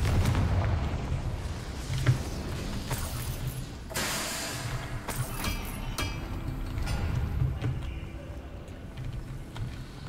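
Explosive Confringo spell blasts in Hogwarts Legacy, a sharp boom near two seconds and another burst around four seconds over busy game ambience and rumbling low background.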